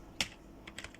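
Keystrokes on a computer keyboard while HTML code is typed: one sharp, close click, then a brief cluster of three or four lighter taps in quick succession, with no talking.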